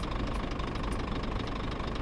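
A truck engine idles in a truck driving video game, giving a steady, loud, low rumble with a slight knocking texture that continues without a break.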